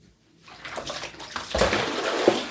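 A grapefruit rinsed under a running kitchen tap while a detox juice of orange, lemon, ginger, mint and cucumber is prepared: a steady, close splash of water that swells after a quiet start, with the fruit shifting in the stream.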